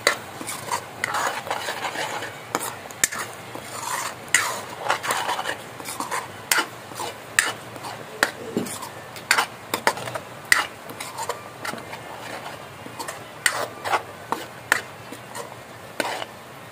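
Roasted onion, coconut, ginger and garlic paste being stirred in a pot for Malvani-style dry chicken, with repeated scraping and clinking of a metal spoon against the pan over a faint sizzle.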